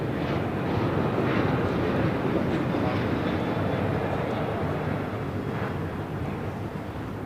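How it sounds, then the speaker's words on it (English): A Southwest Airlines Boeing 737-800 takes off from LAX bound for Houston Hobby, producing a steady, broad jet engine roar that holds at a constant loud level throughout. "This is Southwest Airlines 1998 taking off to Houston Hobby on a 737-800"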